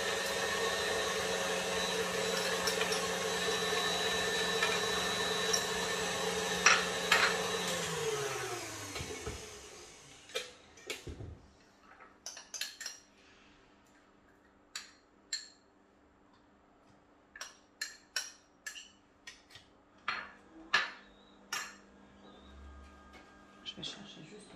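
Egg yolks and sugar being beaten in a bowl, likely with an electric mixer, with a loud, steady whirring drone for about ten seconds. Then the motor stops, leaving scattered soft clicks and knocks as softened butter goes in.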